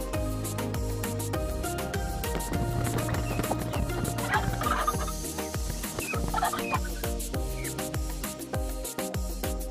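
A royal palm turkey hen among other poultry, with overlapping clucks and fowl calls, some close and loud, over a busy farmyard background with no talking.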